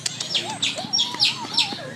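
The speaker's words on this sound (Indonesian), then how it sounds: "Burung nuri dipanggil." Repeated squawking calls of a lory parrot in a wildlife park valley setting, a run of loud shrill chirps and whistles close by, with no talk.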